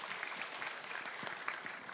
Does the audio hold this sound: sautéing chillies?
no